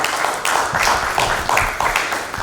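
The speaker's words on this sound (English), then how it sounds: "can we have a clap for the volunteers?" An audience at a conference thank-you event claps for the volunteers, a close, dense burst of hand claps with irregular louder peaks running through the whole moment.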